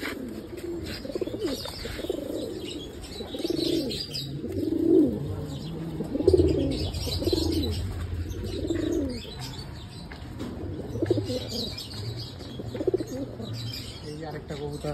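Pigeons of an old local breed coo close by in a low, repeated rhythm, with soft wing flutters and light chirps in between.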